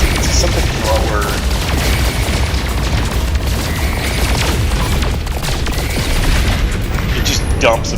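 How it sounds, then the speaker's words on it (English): Scattergun-style particle weapon in No Man's Sky firing in a steady stream of dense bursts and booms, loud and continuous across the whole stretch with no talk over it. "It just dumps a bunch of particles out like a shotgun blast"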